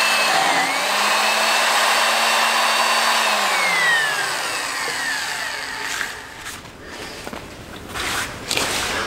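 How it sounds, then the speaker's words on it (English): A countersink bit drills a hole in a thick cast iron fabrication table, producing a loud, steady, high-pitched grinding whine with a drooping motor tone that fades partway through into rougher scraping and handling noises. "our last step is using this countersink bit"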